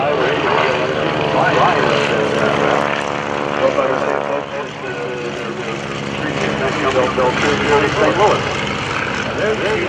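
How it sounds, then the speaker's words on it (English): Two Stinson propeller planes with Continental or similar piston engines fly past at a World War II airshow weekend, a loud steady droning roar with throbbing harmonics that swells and holds across the whole stretch, with speech faintly underneath. "there's the two Stinsons coming by"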